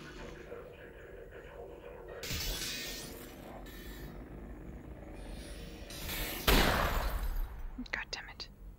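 Glass shatters with a sharp, bright crash in Half-Life: Alyx, standing out from a murky background of low game ambience and faint voices, followed by scattered tinkling debris.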